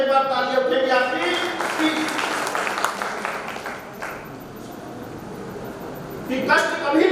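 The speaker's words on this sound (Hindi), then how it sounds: "एक बार तालियां उठेगी आपकी" Audience applause at a poetry recital in a Jain temple, a steady wash of clapping that fades mid-clip, with chanted or spoken verse over it at the start and again at the end.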